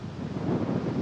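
Low, rumbling wind buffets the microphone in a steady roar, with no voices.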